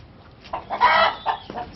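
A farm hen clucks as she settles to lay an egg beside the pig's pen, giving a short run of close, loud clucks that swell into a fuller cackle and then break into a few choppy notes, with no voices.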